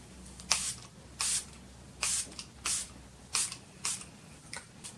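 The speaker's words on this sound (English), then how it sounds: "So I'm using the Blondie Make It Last setting spray." Seven short hissing bursts of a makeup setting spray bottle, each under half a second, spaced irregularly and fairly close.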